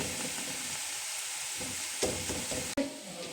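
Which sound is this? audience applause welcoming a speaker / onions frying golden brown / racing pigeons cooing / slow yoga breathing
onions frying golden brown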